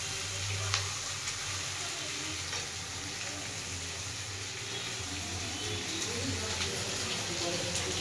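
Spice masala sautéing with potatoes in a pan, a constant bright sizzle and hiss with faint stirring scrapes underneath, close and even with no break.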